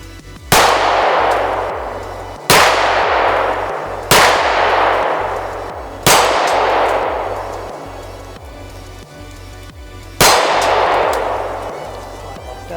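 A Sig P365XL 9mm pistol fires five loud, sharp shots at steel targets, each crack followed by a ringing metallic decay, spaced roughly two seconds apart with a longer pause before the last.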